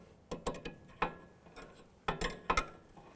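A wrench tightens the jam nut on the outer tie rod of a 2002-2006 Honda CR-V, with a few close mechanical ratcheting clicks in two short bursts and no talk.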